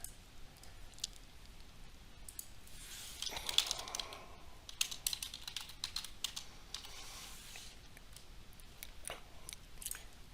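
Clicky typing on a computer keyboard at a desk, quiet and fairly close, with bursts of keystrokes that pick up in the middle and then thin out into scattered taps.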